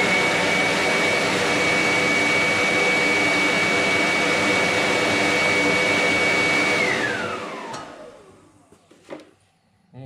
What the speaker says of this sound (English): there's four bars of battery on my nice leaf blower here